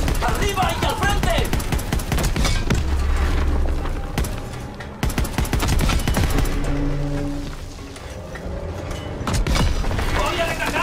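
Bursts of rifle and machine-gun fire with explosions in Call of Duty WWII, dense rapid cracks and booms in waves, heard under shouted soldier voices.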